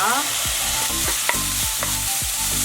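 Garlic and onion fry in hot oil in a pan, a loud, steady sizzle punctuated by repeated scraping strokes of a spatula at a regular rhythm.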